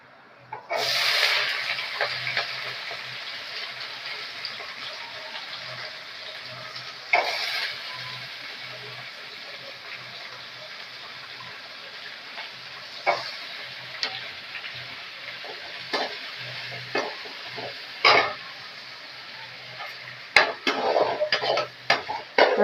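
Beans and carrots stir-fry in a pan as a soft steady sizzle, with occasional sharp scrapes and clinks of a spoon stirring against the pan, no talk.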